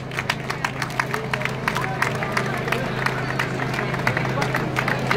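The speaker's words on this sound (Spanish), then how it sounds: "Un aplauso para ellos." Applause breaks out at the award ceremony for a Segovia city road race. The clapping is brisk and fairly close, with crowd murmur and a steady hum underneath.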